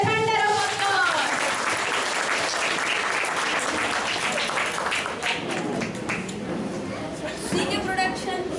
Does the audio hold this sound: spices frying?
no